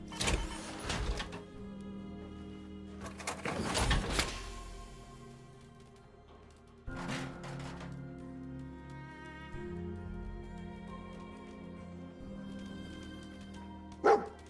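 A dog barks in a video game, giving a few separate loud barks spread across the stretch over a low, continuous game ambience.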